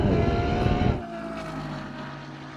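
A Mercedes SLR McLaren, Ferrari GTC4 and Aston Martin DBS accelerate in a drag race, a loud engine roar that drops sharply partway through as a gear change or passing car fades into a lower, steadier drone.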